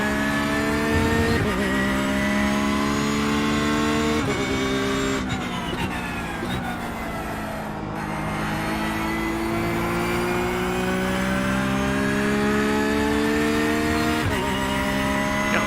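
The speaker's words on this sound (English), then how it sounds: "Vaughn and Adams both in LMP2s going around me there" LMP2 race cars pass on the track around a racing car whose own engine drones loudly and steadily, the note rising and dipping through the lap.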